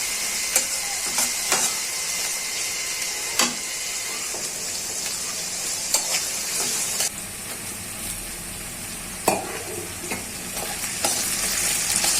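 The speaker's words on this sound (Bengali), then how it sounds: "মশলাগুলো ভাজা হয়ে গেছে, আমি পেঁয়াজ ভেজে নিচ্ছি।" Onions frying in a pan with whole spices such as cinnamon and cardamom for chicken biryani, a steady loud sizzle with sharp scraping clicks of a spatula stirring now and then, no talking.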